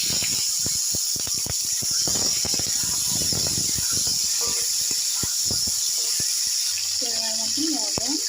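Cubed taro, potato and green chillies hit hot oil with five-spice and a bay leaf, giving a steady hiss shot through with sharp crackles and pops.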